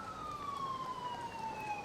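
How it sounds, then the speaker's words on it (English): A siren wails steadily through an open window, its tone sliding slowly downward as an ambulance passes outside, loud and continuous throughout. "Sorry for the ambulance."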